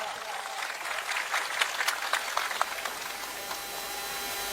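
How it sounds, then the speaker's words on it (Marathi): A rally crowd applauds in a sustained round of clapping, dense and steady with a few sharper claps standing out near the front before it gradually thins, while a voice carries on over it. "एकदा जोरदार टाळ्या वाजवून आपण अभिनंदन करा"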